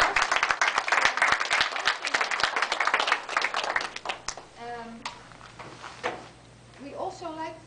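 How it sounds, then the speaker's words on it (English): A small gathering at an arts event bursts into brisk clapping for about four seconds, then it fades out and a person starts speaking. "a big applause."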